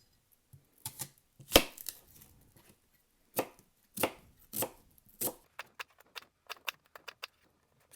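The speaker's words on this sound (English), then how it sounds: "We're going to make same lengthwise cut for our onion." A knife cuts through an onion lengthwise on a board, with a series of sharp, close chops and taps in irregular bursts, some loud and some soft, against a quiet background.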